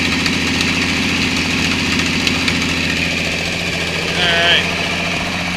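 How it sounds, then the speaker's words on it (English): A 1965 Ford Fairlane engine idles slightly high with a steady, close, continuous rumble, while someone briefly speaks over it. "Idle is a little bit high, but damn does it sound a lot better."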